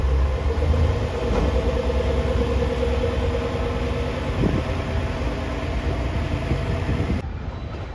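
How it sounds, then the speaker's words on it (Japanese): A JR Kibi Line KiHa 47 diesel railcar in old national railways livery pulls out of the station, its engine throbbing low and steady with rumbling wheels close by, and the sound easing off near the end. "吉備線のキハ47系出発です"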